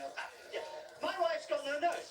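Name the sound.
dog barking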